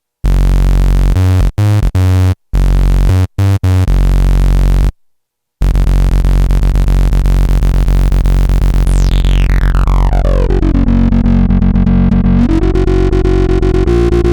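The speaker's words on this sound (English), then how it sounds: "it's just a heavily distorted mono bass sound" A loud, heavily distorted synth bass drones and stutters with abrupt cuts, then sweeps down in pitch and settles into a gritty sustained tone.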